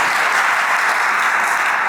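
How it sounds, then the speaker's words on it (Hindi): Catholic church congregation at a Sunday service claps loudly and continuously, a dense wash of many hands filling the room without a break. "ये समय लगी तो तालियां बजाओ"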